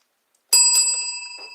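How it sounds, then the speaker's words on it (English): A bright bicycle bell rings twice in quick succession out of silence, the metallic tone lingering and fading, then a softer ring near the end. "Bells"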